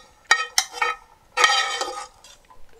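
Stewed vegetables with their broth and juices tipped into a soup pot, a few sharp clinks of a utensil against the pot followed by a longer scraping, clattering pour, close and alone.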